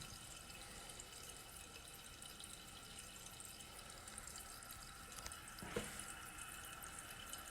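Faint, steady rush of water as a toilet fill valve refills the tank, a continuous hiss with a brief splash or gurgle near the end.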